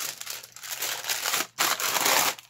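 Wax or parchment paper crinkles loudly and close up as it is wrapped around a candle for decoupage, in steady rustling bursts with one brief pause.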